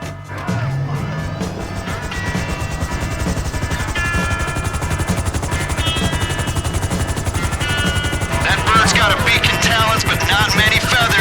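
An armed, lightly armored helicopter in the GTA Online game flies during a raid, its rotor thumping in a rapid, steady chop throughout, with engine whine and game sounds layered on top and growing busier toward the end.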